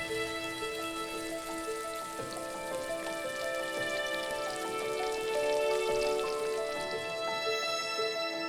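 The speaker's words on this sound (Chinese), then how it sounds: "用150度的油温炸至金黄定型" Steady bubbling sizzle of 胚干 dough deep-frying in oil at 150 degrees, a continuous crackling hiss at moderate volume with no talking.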